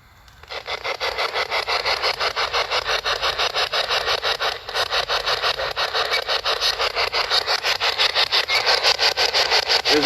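A spirit box device used during a paranormal investigation in remote woods at Lenhart Cemetery gives off a loud, steady stream of rapidly pulsing static, sweeping continuously for about ten seconds.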